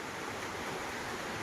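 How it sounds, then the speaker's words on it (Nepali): Heavy rain pours steadily through the night, a dense, even hiss of water falling close by with no break and no voices. "पुरै पानी परिरहेछ"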